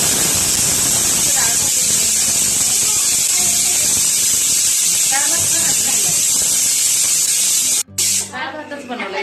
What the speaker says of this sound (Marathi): तर आता इथे मी कुकर लावून घेतलेला आहे